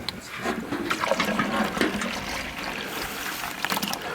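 Maple sap pours and splashes steadily into a collection tank in a Maine sugarbush, a continuous close trickling gush with small bubbling spatters.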